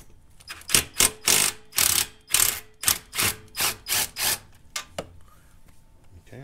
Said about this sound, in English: Here I got my little ratchet.